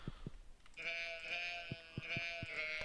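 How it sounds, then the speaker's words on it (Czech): A Stardew Valley sheep bleats in a long, wavering cry that swells and repeats, fairly clear and close, with small tapping clicks scattered through it and no talking. "Ještě ovečky."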